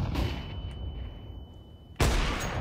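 In Counter-Strike 2, an AWP sniper rifle fires two booming shots, one near the start and a louder one near the end, over a low steady background hum.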